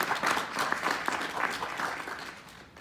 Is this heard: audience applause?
yes